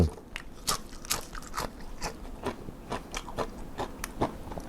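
Pickled cockles being chewed close up, a steady series of crisp, wet crunches and bites with small crackles in between and no talking.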